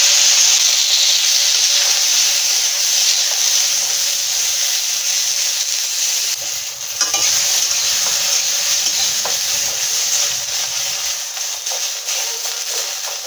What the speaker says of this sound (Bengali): ডিম কড়াইগুলো ভেজে নেব